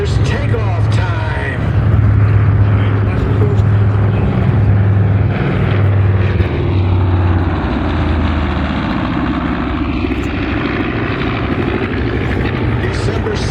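A World War II propeller airplane takes off, its engine droning loud and steady with a low throbbing hum that holds the whole way, sometimes shifting in pitch as the plane gathers speed.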